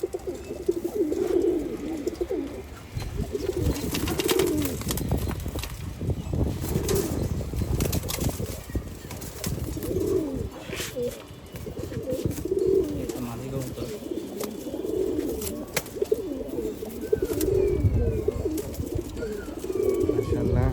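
Racing pigeons kept in a loft coo in repeated low, rounded phrases throughout, several birds overlapping close by with occasional wing flaps, while someone talks intermittently over them.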